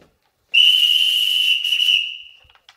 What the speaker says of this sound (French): Sifflez vos policemen